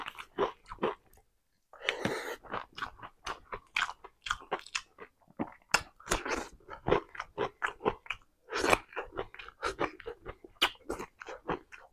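Close, crisp chewing and crunching while eating whole fish with rice, steady rhythmic bites and mouth sounds with a brief pause near the start, quiet and intimate with no talking.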